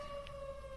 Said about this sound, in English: Those sirens. I didn't know we had sirens in the city.